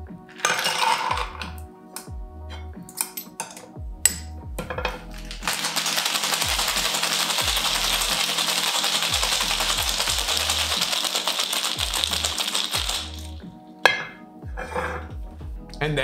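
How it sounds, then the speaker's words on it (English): A cocktail shaker is loaded with clinking ice and then shaken hard for about eight seconds. The shaking makes a loud, steady rattling rush, with scattered metallic clinks before and after. "Now we're gonna fill our shaker with ice and give it a good shake for about 10 seconds."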